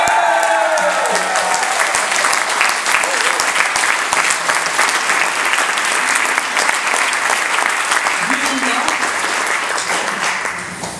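Wedding guests at a Pointless-style quiz burst into loud, sustained applause for the winner, a dense wash of clapping hands lasting about ten seconds before tapering off at the end.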